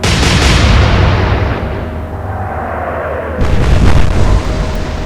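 Naval guns firing a salvo in the Atlantic Fleet game: a loud, deep booming blast with a rolling rumble that fades, then a second heavy report near the end, all close and without talk.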